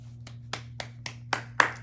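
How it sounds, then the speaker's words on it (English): Six sharp hand claps, one person applauding themselves indoors, evenly spaced and building slightly louder toward the end, over a steady low electrical hum. "I'm gonna give myself a hand clap for that."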